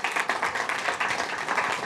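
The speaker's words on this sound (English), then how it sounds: "Round of applause." A room of listeners at an innovation pitch session applauds, a dense, even patter of many hands clapping with no break.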